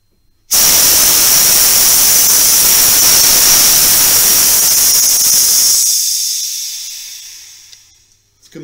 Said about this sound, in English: I'm just going to turn it till it degasses